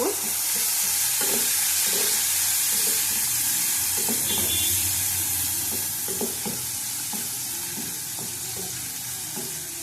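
Pointed gourd frying in a pan, a steady loud sizzle with recurring stirring scrapes throughout, close by and without talk.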